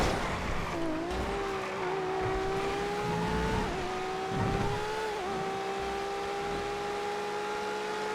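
A drift car from the GTA FiveM Random Sporty race class, its engine holding a steady, continuous drone with pitch shifts as it accelerates and shifts, faint tire noise underneath, no talking.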